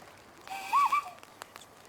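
A man imitates a loon call by blowing through his cupped hands beside a lake on Pyramid Island in Jasper, Canada, two short wavering hooting notes over quiet outdoor background with faint ticks.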